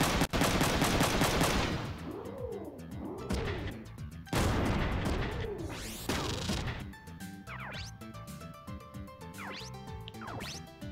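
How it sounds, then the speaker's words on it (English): Gunfire from a video game, aimed at a punch bot: loud repeated shots and crashing impacts in bursts, with game music and sweeping effects running underneath. "Well, you can shoot at this thing then."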